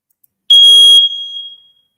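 Smoke alarm goes off while a burger cooks, sounding one loud, piercing, high electronic beep about half a second long that rings out and fades, with no talk alongside.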